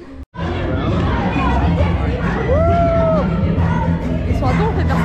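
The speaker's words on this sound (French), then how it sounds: "On applaudit, wouh!" A lively crowd at Walt Disney World's Coronado Springs resort cheers and whoops loudly, with yells and excited babble of voices filling the space after a brief pause.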